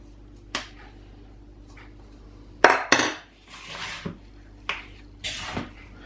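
A spoon scrapes and clinks against a mixing bowl as dry sourdough naan dough is worked off it, giving several brief close knocks and longer scraping strokes with quiet gaps between.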